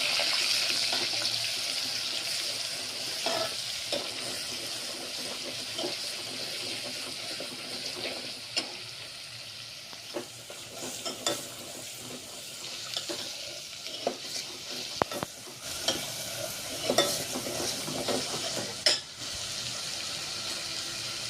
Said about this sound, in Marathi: अद्रक लसूणचा पेस्ट 2 चम्मच. त्याला थोडं 1 मिनिट होऊ द्यायचं आपल्याला.